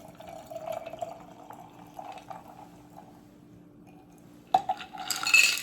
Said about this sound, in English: And pour it into my glass.